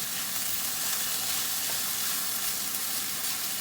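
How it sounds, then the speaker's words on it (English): Garlic frying in a hot pan, a steady dense sizzle with small crackles and pops running continuously, close and fairly quiet, with no talking. "my garlic's popping"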